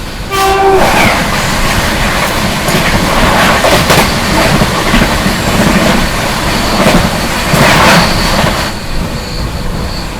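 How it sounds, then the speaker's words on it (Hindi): The Bandra Terminus Ghazipur City Superfast Express passes an oncoming Shiv Ganga Superfast Express near Prayagraj Junction, heard loud and close from on board. Its horn sounds first, followed by a sustained roar with rattling wheels and clattering cars. "दोस्तों सामने से आ रही है Bandra terminus Ghazipur city superfast express."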